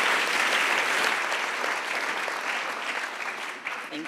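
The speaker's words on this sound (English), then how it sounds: "Please give a round of warm applause for Zayna Khayat." Conference audience applauds a keynote speaker at a health sensors event, a loud, dense round of clapping that stays full and then eases slightly toward the end.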